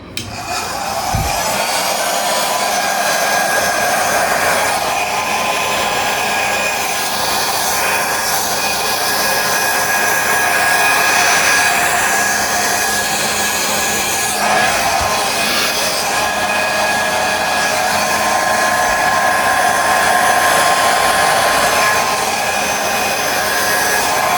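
A steady, loud rush of blown air pushes wet paint across a canvas in a Dutch pour, with an even, continuous whoosh close to the microphone and no talk.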